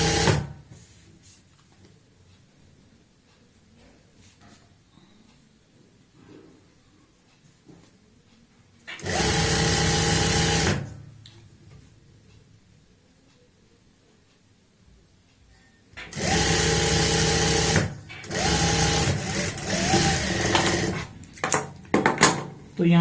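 Sewing machine stitching the side seam of palazzo pants in loud, steady runs: one burst of about two seconds, then a longer stretch made of several bursts, with quiet handling between them.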